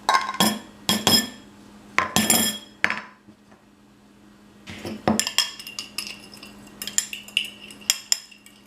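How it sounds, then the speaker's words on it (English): Spice rub ingredients (cayenne pepper, salt and pepper) being mixed in a small bowl, heard as sharp metallic clinks and scrapes of a utensil against the bowl in quick clustered bursts, with a quiet pause midway. "In a small bowl, you're going to mix all those ingredients together."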